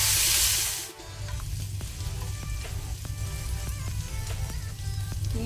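Ginger garlic paste fries with mint and coriander leaves for egg biryani, a steady close sizzle under soft stirring scrapes, briefly louder at the start before settling into an even crackle.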